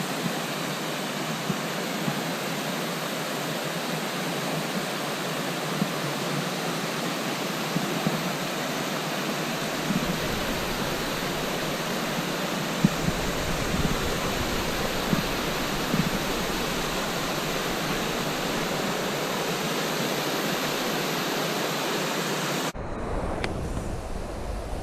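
A river rushes along Glen Feshie in the Cairngorms of Scotland, a steady broadband roar of flowing water heard close and continuous, with no voices.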